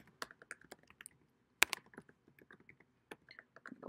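Keys clatter on a computer keyboard as a new patron record is filled in, with irregular bursts of quiet, close taps and one sharper keystroke partway through.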